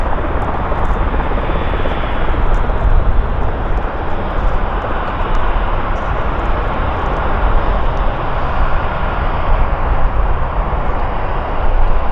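A Boeing KC-135 aircraft taxiing at an air force base, a loud, steady broadband engine roar that holds constant throughout with no voices.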